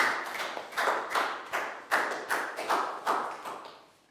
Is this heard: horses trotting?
no